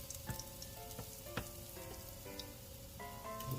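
Batter patties frying in a skillet, three at a time, give a steady close sizzle with faint crackles, partly masked by louder melodic background music throughout.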